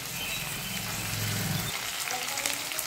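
Chopped capsicum and green chilli frying in a pan for cauliflower manchurian, a dense steady sizzle with a low hum underneath that drops away partway through.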